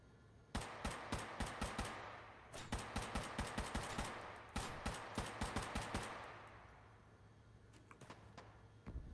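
Rapid automatic gunfire in a video game, repeated sharp bursts of close, loud shots in quick rhythmic volleys, tailing off before a few last shots at the end.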